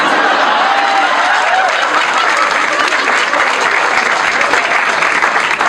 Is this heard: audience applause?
yes